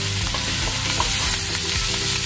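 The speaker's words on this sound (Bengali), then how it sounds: "এর মধ্যে টুকরো করে রাখা পনিরগুলো দিয়ে দিলাম। ফ্লেমটা একটু জোরে করলাম।" Paneer pieces fry in butter with ginger and chilli over a high flame, giving a steady, close, crackling sizzle that runs without pause for a moment, with no talk.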